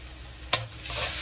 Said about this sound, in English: I will add 3 teaspoons of ginger garlic paste to it. And Give it a nice stir.